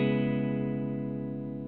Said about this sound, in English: Here's that clean sound.